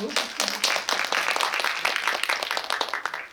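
Audience applause at a film stage greeting in a COEX Megabox cinema, a dense steady patter of many hands clapping close by that carries evenly through the moment.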